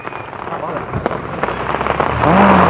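Rain falls with a dense, steady patter that grows louder toward the end, with a vehicle rumbling nearby and voices talking.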